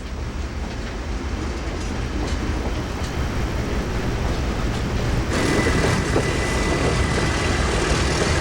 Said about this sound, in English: There's our sister train across the way